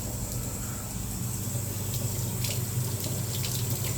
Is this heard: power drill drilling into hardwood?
no